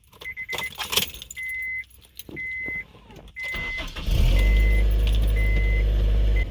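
An Acura RSX Type S is started with its keys: keys jangle and a chime beeps repeatedly, then the engine cranks and settles into a steady, loud idle close by while the beeping continues.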